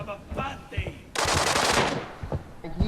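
Loud burst of automatic gunfire in the online shooter Arena Breakout, lasting about a second amid quieter game sounds, with a few faint background noises before and after.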